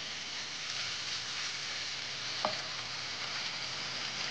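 Kangkong (water spinach) stir-fried in a pan, a steady broad sizzle and hiss running throughout with a brief clink near the middle, moderately loud with no voices.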